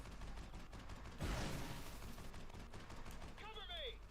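Gunfire in the PS3 video game Fracture: a faint, distant crack of gunshots bursts once amid a steady low rumble of battle ambience, followed shortly by a brief warbling electronic tone.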